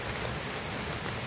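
Heavy rain pours down in a dense, unbroken hiss, a constant wash of noise that is fairly quiet and has no voices over it.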